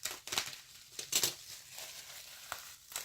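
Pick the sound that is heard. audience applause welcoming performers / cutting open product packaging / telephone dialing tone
cutting open product packaging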